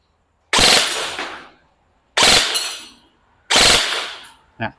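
A G&G ARP-9 electric airsoft gun fires on full auto in three sharp, loud bursts of rapid mechanical clatter, each under a second long and separated by silence, followed by a short final click.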